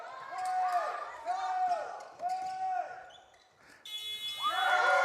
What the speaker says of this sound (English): Shot is good by Jayla Jones. At the buzzer